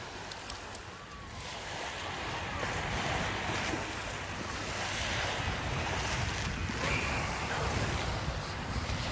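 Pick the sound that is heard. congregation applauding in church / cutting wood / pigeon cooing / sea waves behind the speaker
sea waves behind the speaker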